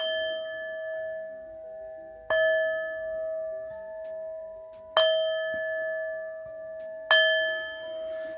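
Tibetan singing bowl struck four times, each strike giving a clear resonant bell tone that rings on and slowly fades before the next, heard alone and up close.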